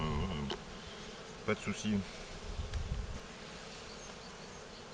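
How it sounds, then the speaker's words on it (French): Honeybees hum steadily around an opened Dadant hive during an inspection, a continuous close buzz broken by a few soft handling knocks, with someone speaking briefly over it. "Les abeilles bougent pas."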